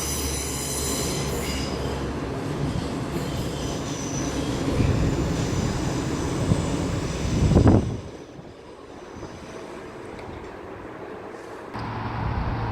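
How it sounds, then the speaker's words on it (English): A Southern class 377 electric train runs through St Denys station, a loud continuous rumble of wheels and motors with a brief rising squeal near the end before the noise drops to quieter station ambience. "377408. Southern service to Southampton Central."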